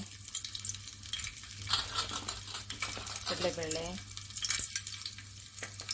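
Garlic and chana dal frying in oil in a pressure cooker for a quick cabbage palya, a steady close sizzle with stirring and a few utensil clinks.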